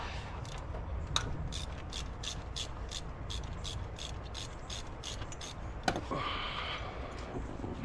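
Ratchet with a 13 mm socket turning a pulley bolt on a Dodge Charger 5.7L engine: rapid, evenly spaced metallic clicks in a steady run, fairly faint and close, with a short pause and a clunk near the end.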